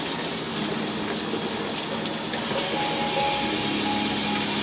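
Tap water runs steadily in a kitchen sink while vegetables are rinsed, a loud, close, continuous gushing and splashing with no pauses.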